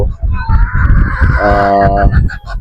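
Young GCGF Batangas line pullet hens give loud, close honking squawks and calls in a pen, with one drawn-out harmonic cry in the middle and a voice speaking underneath.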